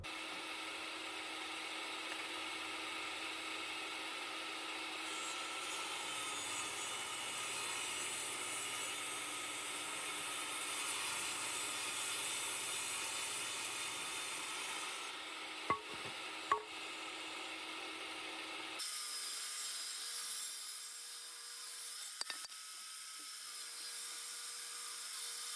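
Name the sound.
table saw ripping wood boards for outdoor furniture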